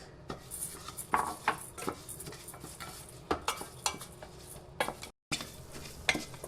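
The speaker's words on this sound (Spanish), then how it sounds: "Ponemos 2 cucharadas de aceite y sofreímos un poco el arroz." Rice fries in two spoonfuls of oil in a pan, with a soft sizzle under repeated scrapes and clinks of a utensil stirring against the pan.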